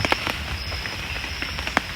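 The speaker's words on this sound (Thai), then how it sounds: "เนื่องจากฝนตกด้วยตอนนี้" Rain falls in a forest at a campsite, a steady close patter with distinct heavier drops popping out now and then, no voices.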